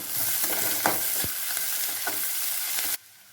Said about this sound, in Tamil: வெங்காயத்தை நல்லா வணக்கிக்கலாம்